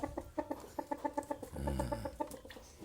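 A chicken with a foot ailment clucks repeatedly in a steady rhythm while its feet are set to soak for treatment, with a brief low rustle mid-way, close and clear, no talking.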